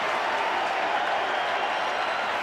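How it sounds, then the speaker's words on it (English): Broad, steady roar of a stadium crowd celebrating a try at a 1988 Winfield Cup rugby league match between Brisbane Broncos and Manly Warringah, a continuous wash of cheering and applause without breaks. "And the crowd celebrates."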